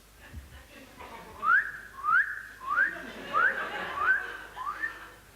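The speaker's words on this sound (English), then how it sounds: "it sounds to me like some silly ass whistling" A person whistling, a string of six short rising whistled notes repeated at an even pace, each a quick upward slide, clear and moderately near against a quiet background.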